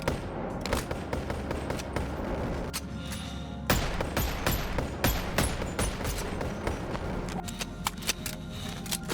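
Rapid gunfire from weapons in the VR game Boneworks, with bursts of sharp shots, some fast and some spaced, clattering close and loud over a steady background without any talk.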